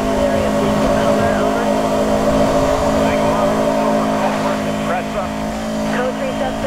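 Subaru Cosworth Impreza engine in Need For Speed: Most Wanted 2, a steady loud drone that runs throughout, with police radio chatter layered over it.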